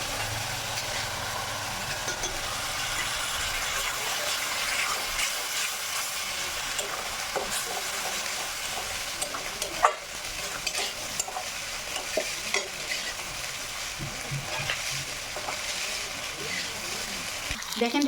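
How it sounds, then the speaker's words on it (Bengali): A long, even sizzle of coconut frying with sugar in a pan for milk pitha, with repeated scraping strokes of stirring and occasional clanks against the pan. "দেখেন দিদিভাইরা, আমার নারকেল ভাজা হয়ে গিয়েছে।"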